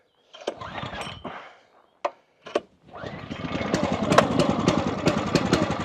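A small Eastonmade Ultra engine on a homestead is cranked with choke, catches after a few short bursts, then settles into a steady, loud idle that runs on without a break.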